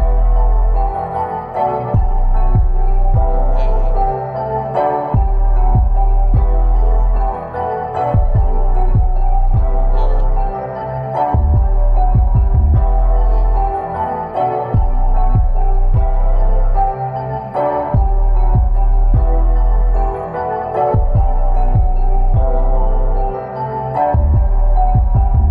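A trap beat made in Mixcraft 9 plays loudly and continuously, with booming 808 bass hits under punchy drums and percussion and a looping melodic layer, no voices.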